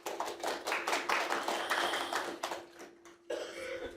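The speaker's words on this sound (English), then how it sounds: "The clapping for ourselves." Live audience at a talk clapping, a scattered burst of applause from a room of people, fading out, followed by a brief quieter stretch and renewed claps.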